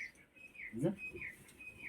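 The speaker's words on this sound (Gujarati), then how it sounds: "શું બોલે છે શું બોલે તેતર" A partridge calling outdoors in a village, repeated high whistled notes rising and falling at a steady pace, moderately distant, with a brief human murmur in the middle.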